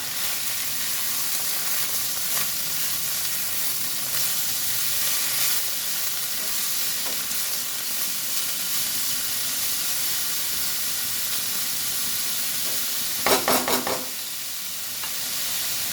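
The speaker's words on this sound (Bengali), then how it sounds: "বিট আর গাজর কুচানোটা ভালো করে ভাজতে দেবো" Chopped beetroot and carrot frying in a pan, a loud, steady close-up sizzle and hiss throughout, with a brief burst of stirring clatter near the end and no talk.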